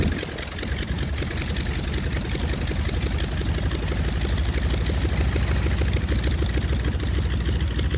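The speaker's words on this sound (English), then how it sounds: "The sound of the radial engine alone is enough to turn heads." The radial engine of a 1930s Beechcraft Model 17 Staggerwing idles with a deep, rapid lumpy chug, loud and close, running steadily with a rough pulsing beat throughout.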